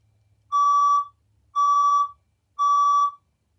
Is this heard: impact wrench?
no